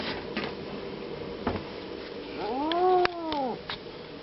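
A cat lets out a drawn-out, wavering meow near the end, close and fairly loud, with faint shuffling and a soft tap before it.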